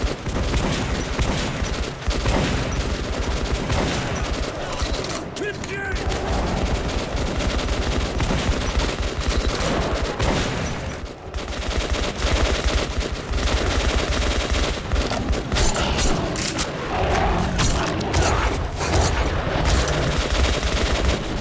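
Gunfire from the post-apocalyptic first-person shooter Metro 2033 Redux: dense, heavy, continuous bursts of weapons fire over a rumbling game soundscape, loud throughout with a brief lull near the middle.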